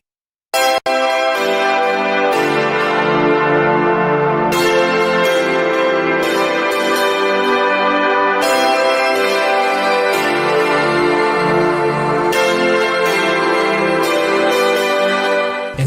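Loud, resonant church-style bells ring out repeatedly in an uneven sequence of strikes, each clang overlapping the long humming decay of the last, sustained throughout with no talking.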